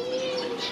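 A green-winged dove coos in an aviary, a single brief, steady, soft tone heard close by with no talk.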